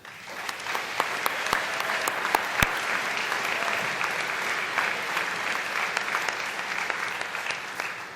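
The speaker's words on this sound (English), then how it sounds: "Please join me in a round of applause for them." An academic convocation crowd at Providence College claps for honored guests, a full, steady wave of applause with a few sharp nearby claps standing out.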